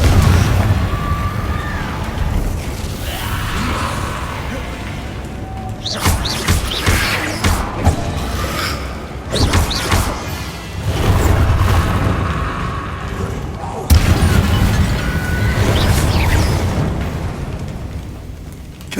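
Confringo blasting curse explosions in the Hogwarts Legacy video game, several loud fiery bursts at irregular intervals over a continuous roar of combat and magic effects.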